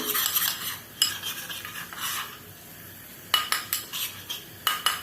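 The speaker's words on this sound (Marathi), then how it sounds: "मैदा देखील ब्राऊन कलर येऊपर्यंत परतून घ्यायचा आहे" Spoon scraping and stirring flour as it roasts in a metal pan for French onion soup, with irregular clinks and scrapes in bursts, clustered rapid strokes toward the end, close and distinct.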